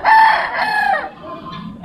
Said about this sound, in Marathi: कोंबड्या मग बघू शकता किती आहेत.